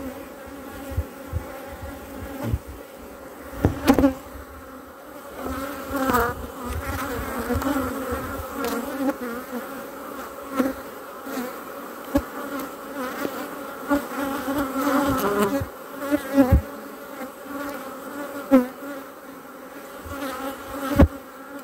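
Honey bees at an open hive under a stressed, poor-quality queen: a dense, continuous buzzing drone with individual bees passing close and loud now and then, plus occasional sharp handling clicks and knocks.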